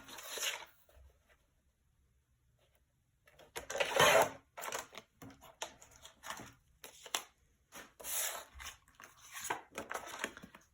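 A paper guillotine trims mirror card in short bursts of scraping, rasping slices, with a quiet pause followed by several brisk cutting and handling noises close by.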